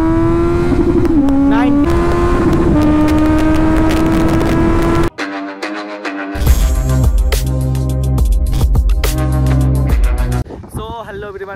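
A Kawasaki Z900 BS6 motorcycle accelerates through first, second and third gears, its engine note rising and dropping at each shift, followed by a different stretch of louder mixed sound, with someone talking at times.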